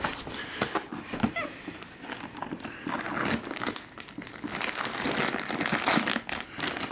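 Plastic wrapping on a boxed mattress crinkles and rustles close by as it is cut open, irregular crackling bursts of handling at low volume.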